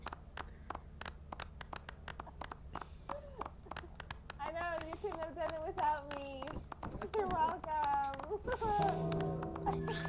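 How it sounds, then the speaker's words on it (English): Clapping in the video game Lethal Company, a run of sharp quick claps that taper off as voices and talk take over and overlap them. "start clapping"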